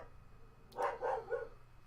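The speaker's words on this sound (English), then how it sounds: "the dogs are always barking" Dogs near a house on a busy main road give three quick barks in close succession, moderately loud over a quiet background hum.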